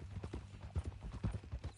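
Horse hooves clip-clop in Red Dead Redemption 2 as a ridden horse walks, a steady, moderately loud rhythm of hoofbeats heard on its own with no talk over it.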